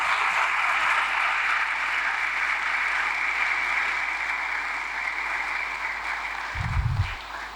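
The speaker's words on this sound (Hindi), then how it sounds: "भरपूर तालियां खुदावंद वास्ते।" Sustained clapping from a church congregation at a Hindi-Urdu sermon, a thick even wash of many hands that holds for several seconds, ending with a brief low thump near the close.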